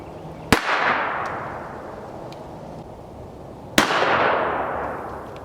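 Two sharp .22 Long Rifle shots from a Browning Buckmark pistol firing CCI Mini Mag 40-grain hollow points into a clear ballistic gel block, each a loud crack with a short ringing tail, several seconds apart.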